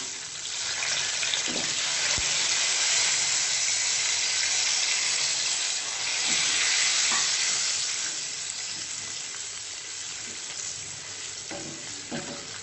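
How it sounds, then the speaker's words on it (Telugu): Tamarind juice poured into a hot pan of tempering with asafoetida for masala pulihora, giving a steady, loud sizzle and bubbling that keeps going throughout, with faint stirring clicks and no talking. "మనం ఆల్రెడీ ప్రిపేర్ చేసుకున్న చింతపండు పులుసు అందులో యాడ్ చేసుకున్నాం."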